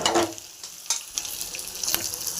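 Crushed garlic and onion frying in oil with mustard seeds for a greens dish, a close steady sizzle with periodic spatula scrapes and stirring strokes, no speech.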